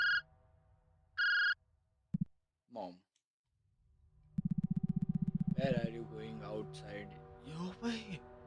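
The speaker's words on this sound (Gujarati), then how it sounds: "ભાઈ ફોન આવ્યો ભાઈ ફોન રીંગો" A phone rings in short electronic bursts, then a melodic ringtone plays with a voice talking over it.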